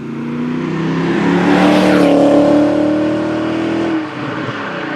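A BMW E39 535i driving off, its engine rising in pitch as it accelerates close by, a loud swelling rush of tire and wind noise, then a brief dip as the revs shift.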